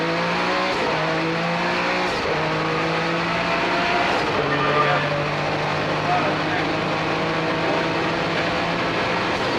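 A Porsche 962 racing car, a 1990 962C, roars past at a reunion race, its engine note holding steady and shifting pitch as it runs, with a commentator talking over it.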